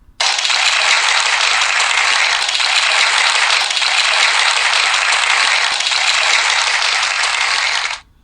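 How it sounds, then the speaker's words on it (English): Loud, dense burst of applause, a steady wash of clapping that starts abruptly and cuts off cleanly after about eight seconds, close and alone without talk. "here's some applause. Applause for the bear."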